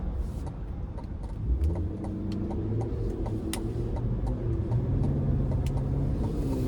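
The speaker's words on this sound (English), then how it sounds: "what really gets you is that exhaust note. It's so aggressive, it's so loud" 2025 Cadillac Escalade V-Series engine and exhaust rumbling steadily while driving, a loud low drone with small ticking sounds from the cabin throughout.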